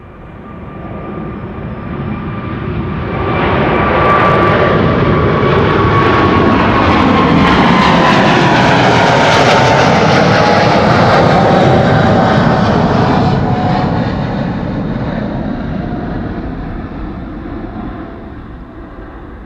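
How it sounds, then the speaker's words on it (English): A KLM Boeing 777 jet, registration PH-BVB, takes off from Schiphol, its engine roar swelling to a loud, sustained peak and then slowly fading as it passes, with rising and falling tonal whines throughout. "we have a 777 that is coming this way and is taking off to Cape Town South"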